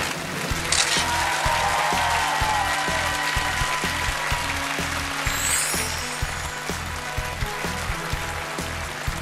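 Steady, dense applause from a studio crowd in a Pole Chudes game show video game, continuous and loud over a looping music bed with a rhythmic low beat.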